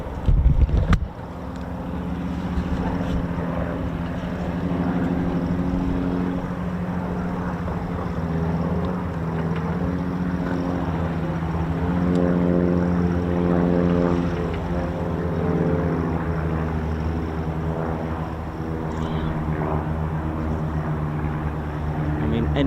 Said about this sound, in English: Pilots just wanted to fly past.